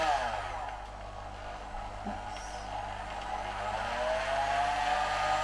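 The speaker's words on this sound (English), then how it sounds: "What I'm doing now is whisking that." A Ninja 10-in-1 mixer whisks cream for a strawberry shortcake, giving a continuous close motor whine whose pitch drifts gently up and down throughout.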